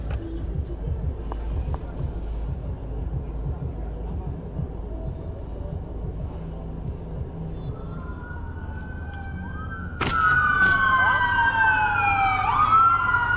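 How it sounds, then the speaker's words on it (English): Emergency vehicle sirens wail through bumper-to-bumper city traffic, a police siren rising and sweeping loudly in the last few seconds over a steady rumble of engines. "Just chaos, emergency vehicles, police sirens, bumper-to-bumper traffic."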